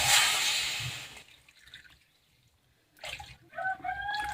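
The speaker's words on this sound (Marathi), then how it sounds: "आता आपण त्याच्यामध्ये पाणी ॲड करून घेऊ" Water poured over half a kilo of jaggery in a wok gives a brief, close splashing pour at the start, then near silence, followed by some faint tonal calls in the background.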